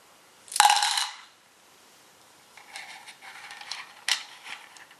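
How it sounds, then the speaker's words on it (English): Dice from a Lord of the Rings dice-building game land in a sharp, bright clatter, then after a pause a second handful rattles and tumbles on a hard surface, ending with a final click. "Take all of Sauron's dice and roll them."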